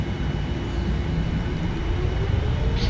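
Boeing 787 engines spooling for takeoff in a flight simulator, a steady loud low roar and rumble with a faint rising tone, continuous and close.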